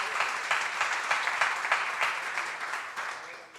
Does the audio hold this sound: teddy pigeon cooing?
no